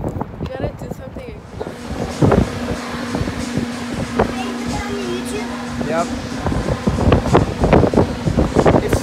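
Strong gusts roar across the microphone at an outdoor Topgolf range, a rumbling, buffeting wind noise that swells and dips throughout while a voice speaks briefly over it.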